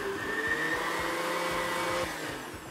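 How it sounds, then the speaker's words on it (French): A blender purées cooked cauliflower to a creamy texture, with a steady, close motor whine and churning that runs continuously before easing slightly at the end. "tu mixes plus ou moins finement sur la texture que tu veux"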